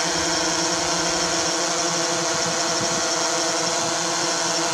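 A DJI Phantom 3 Professional drone's motors spin up for takeoff, giving a loud, steady, close-up whirring roar with no pauses.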